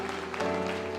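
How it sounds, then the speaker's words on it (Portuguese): A church congregation standing during worship claps along, the applause blending with sustained organ or keyboard tones that hold steady underneath. "Se coloque em pé, igreja, e aplaude ao Senhor"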